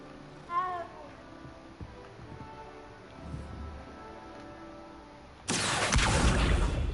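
A cat in the video game Hogwarts Legacy lets out a short, faint meow near the start, followed by quiet ambient game sounds and a sudden loud rushing noise near the end.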